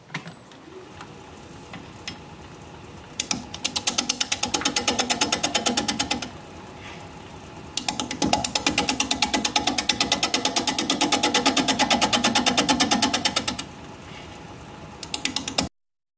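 A wood lathe at 540 RPM turning a bowl with a 5/8 inch bowl gouge makes a rapid, rhythmic rattling chatter in long loud bursts between quieter spinning stretches, close by and without talk.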